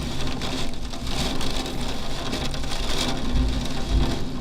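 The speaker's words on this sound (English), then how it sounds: "it's raining so hard I can't even see it." Heavy rain pours steadily on a London street, a dense, loud, continuous hiss of drops hitting the ground, with brief low rumbles near the end.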